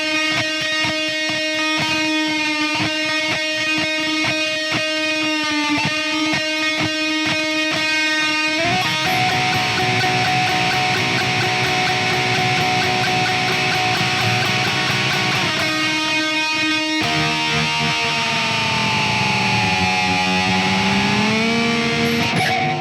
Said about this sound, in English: So the guitar part, 6th of May, lots of delay, lots of distortion, lots of clever whammy bar use.